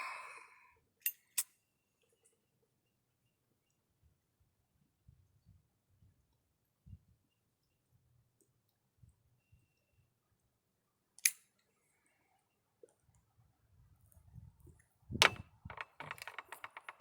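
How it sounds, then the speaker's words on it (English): An Essex Zippo lighter flicked open and struck to light a pipe outdoors on a deck, heard as a few crisp metallic clicks, quiet rustling, then a louder strike and flare near the close. "Time for the Essex Zippo."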